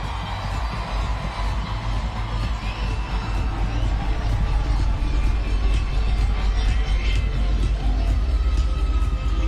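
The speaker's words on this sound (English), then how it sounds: "please give a round of applause to Alex Morgan from USA" Large stadium crowd roaring and cheering for a women's soccer player receiving an award at a USA vs Germany tournament final, a dense steady wash of noise with scattered shouts, loud and continuous throughout.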